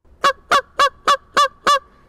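A Canada goose call blown by mouth sounds six evenly spaced, sharp honks in a steady rhythm, loud and close.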